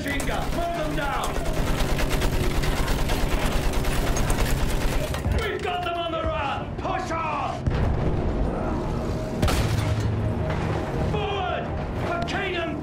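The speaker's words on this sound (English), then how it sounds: "Use that machine gun!" Heavy machine gun fire and explosions roar in a World War I battle in Battlefield 1, with sustained gunfire, booming impacts and shouted voices overlapping in a loud, chaotic mix.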